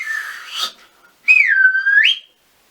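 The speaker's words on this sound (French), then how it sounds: "Dame Soumagamousso a sorti son sifflet et puis elle a commencé à siffler." A hand whistle gives two shrill blasts with a pause between them. The second blast bends down and then swoops back up, clear and close, with no talk around it.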